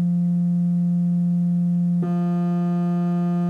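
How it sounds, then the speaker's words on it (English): A single Korg IMS-20 oscillator holds a steady, sustained tone, then switches abruptly partway through to a triangle waveform with a brighter, thinner harmonic character, continuing evenly and loudly without pause. "I'm changing it to a triangle sound."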